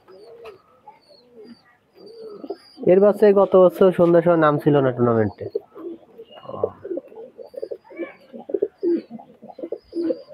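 A pair of golden Pakistani highflyer pigeons coo in a Khulna loft, giving a loud close run of throaty, rolling coos between stretches of talking.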